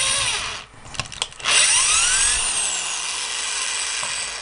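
A power drill bores into a small e-NABLE Talon Hand 2.0 prosthetic part: brief stuttering bursts, then a sustained high whine at close range.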